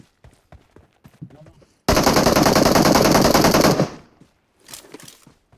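Automatic gunfire in the mobile game PUBG Mobile, one loud sustained burst of rapid shots lasting about two seconds, with quiet game sounds and clicks before and a short faint burst after.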